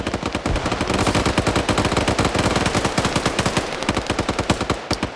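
Rapid machine-gun fire in a PvP video game match, dense continuous bursts of loud shots running nearly unbroken before thinning into separate cracks near the end.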